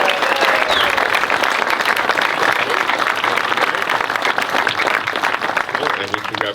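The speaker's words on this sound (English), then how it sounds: "can we make some massive noise, a round of applause for our ring bearer" Wedding guests give a loud, sustained round of applause for the ring bearer, dense clapping mixed with cheers and shouting voices throughout.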